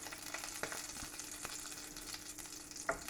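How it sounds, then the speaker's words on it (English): Quiet, steady sizzling of minced meat frying in a pan, with occasional soft scrapes and pops, close by with no talking. "So like you're frying mince and it's going to be like a minced burger."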